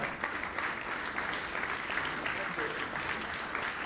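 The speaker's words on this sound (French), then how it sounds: "Que l'on applaudit." Audience applause at a French humour and politics press club awards ceremony, steady rhythmic clapping at a moderate distance, with some voices mixed in.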